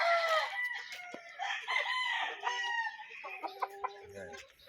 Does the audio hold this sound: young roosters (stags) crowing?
yes